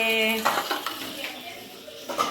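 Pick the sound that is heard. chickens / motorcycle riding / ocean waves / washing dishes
washing dishes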